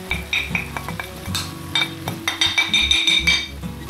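Garlic, herbs, spices and bay leaves being stirred into softened vegetables in a pan for jambalaya, with a steady run of scraping strokes and light metallic clinks of utensil against pan.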